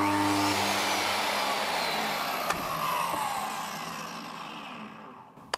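Table saw with a soft-start motor spinning up, a smooth rising whine that swells and then settles and fades, with a couple of sharp clicks and no talking.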